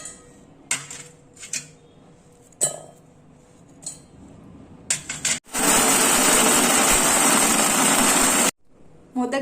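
A mixer grinder whirs loudly for about three seconds as it grinds dried coconut and jaggery, a steady high-pitched motor whine that stops abruptly, preceded by clinks and knocks of the jar being handled.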